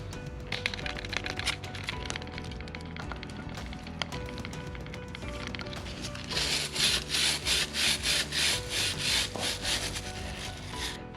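A cleaning brush soaked in kerosene scrubs the chain and sprocket of a Yamaha MT07 motorcycle, rubbing steadily at first, then turning into a quick run of loud rhythmic back-and-forth strokes near the end.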